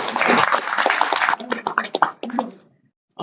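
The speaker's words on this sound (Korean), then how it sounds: "박수 한번 드리겠습니다." Applause from a lecture audience in a district office hall, a dense patter that runs for over two seconds with talk mixed in, then breaks into scattered claps and fades to near silence.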